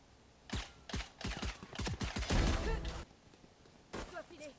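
Heavy gunfire from a big gun in Valorant rings out in several bursts of rapid shots, one longer volley in the middle, with quieter game sounds between.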